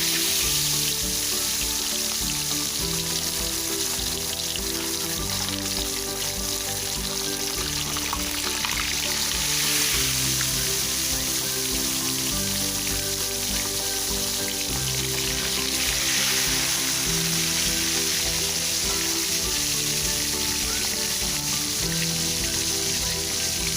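Fish frying in hot oil, a steady dense sizzle and crackle that holds loud and continuous throughout, with no talking over it.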